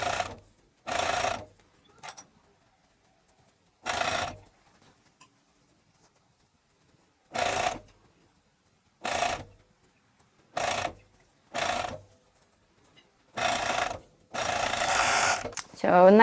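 Sewing machine stitching a stretched ribbing neckband onto a dog t-shirt, heard as about a dozen separate short runs of stitching, each a second or so long, with quiet pauses between them.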